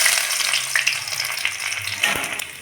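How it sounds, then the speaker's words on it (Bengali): Chopped garlic hisses and spatters in hot oil that already holds fried fenugreek seeds, cooked for a masoor dal khichuri. The sizzle is close, dense and continuous, with a few small clinks and no talk. "এর মধ্যে রসুন কুচিটা প্রথমে দিয়ে দেব।"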